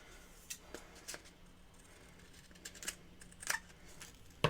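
Scissors snip the overhanging end of a paper strip laid across cardstock for a handmade birthday card, several short, crisp, close cuts spaced irregularly over a quiet background.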